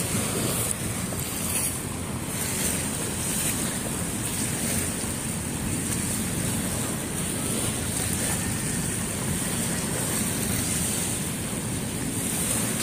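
Strong waves wash steadily along Dolomite Beach on Manila Bay, a continuous surf roar mixed with gusting wind buffeting the microphone, with no voices over it.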